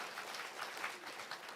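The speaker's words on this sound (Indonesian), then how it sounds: "Boleh tepuk tangan bagi Tuhan kita yang berkuasa?" A church congregation claps together during a sermon, a steady wash of many hands, soft and somewhat distant, with no talking over it.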